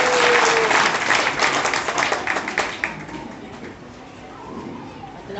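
An audience claps in welcome for a speaker at a reception honouring doctors for lockdown service, the applause loud at first and then thinning out into a quieter murmur.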